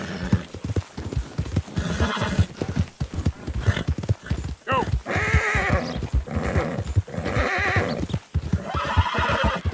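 Horse hooves clip-clopping at a fast gallop in Red Dead Redemption 2, steady rhythmic hoofbeats with several whinnies and neighs layered on top, loud and close throughout.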